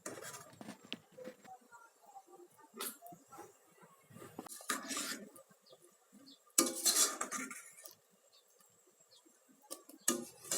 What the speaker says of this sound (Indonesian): kita aduk-aduk baksonya dan sebentar lagi kita akan angkat